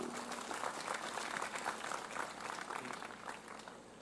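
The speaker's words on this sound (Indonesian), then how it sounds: "Tepuk tangan untuk Pak Bupati" A crowd at an Indonesian religious gathering claps for the regent, a dense, even wash of applause from many hands, sustained throughout and easing slightly toward the end.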